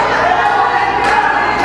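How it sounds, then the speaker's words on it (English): A wrestling crowd at an independent UCW-Zero show screams a chant, a dense, loud, sustained roar of many voices filling the whole moment without a break. "I don't know why these people keep screaming the name of my favorite cartoon"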